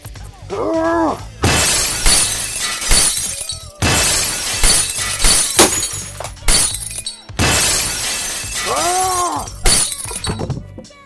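Glass smashes loudly as a sound effect: three separate crashes, each a dense, bright burst of shattering shards with a brief tonal swoop before it, spaced a couple of seconds apart.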